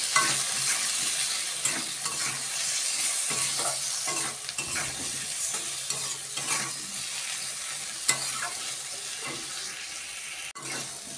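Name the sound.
hilsa fish curry frying in pan with spices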